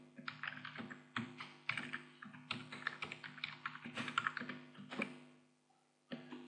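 Fingers tap quickly on a computer keyboard in uneven bursts of clicking keystrokes, close and fairly quiet, with brief pauses between runs of typing.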